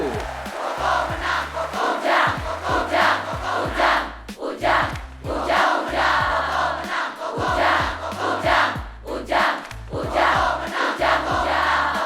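An animated crowd gives loud, roaring applause and cheering before a village head candidates' debate. The dense, looping mass of voices and clapping fills the scene without a break.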